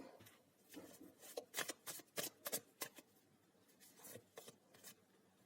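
A deck of tarot cards is shuffled by hand during a card reading, giving a series of crisp riffling and flicking bursts in quick, uneven clusters, close up and with no talking.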